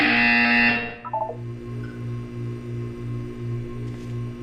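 A loud, harsh electronic buzzer in the video game Portal 2 blares for under a second and cuts off, leaving a low, softly pulsing hum.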